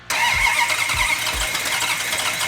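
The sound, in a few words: Plymouth Hemi Cuda V8 engine starting up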